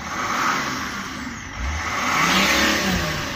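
A Range Rover L322 engine revs up with a rising roar, then a turbo whoosh and hiss as it settles, close and fairly loud throughout.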